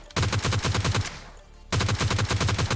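Rapid automatic gunfire in the PUBG Lite mobile shooter, two loud close bursts of evenly spaced shots separated by a brief pause with a fading echo, no voices.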